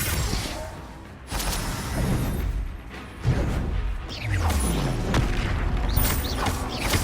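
Spell explosions from the Confringo fire spell in the video game Hogwarts Legacy, a run of loud booming bursts and whooshes spread over several seconds amid busy combat effects, with no talk.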